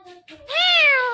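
A talking parrot mimics a cat's meow: one drawn-out, rising-then-falling meow call, loud and close, after a couple of short chirpy sounds.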